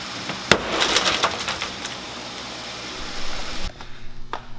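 Glass shattering on an HKS SSQV blow-off valve being installed on an R32 Skyline GT-R after over-tightening, a sharp crack followed by a brief scatter of tinkling fragments, close and fairly loud.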